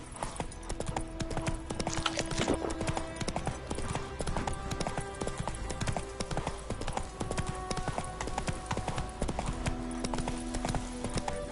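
The horse Roach clip-clops on hooves in The Witcher III: The Wild Hunt, a steady, loud, rhythmic trot that continues close up throughout, with no voices.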